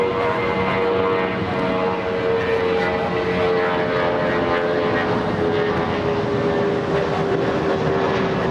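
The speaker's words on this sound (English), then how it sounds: "Viva Airbus flying to Guadalajara" A Viva Aerobus airliner departing Los Angeles International Airport for Guadalajara produces a steady, loud jet engine roar with a sustained whine that holds constant throughout, with no talk over it.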